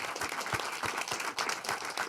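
An audience at a London talk with a rock musician breaks into a steady round of applause, with dense overlapping claps at moderate distance and no talking over it.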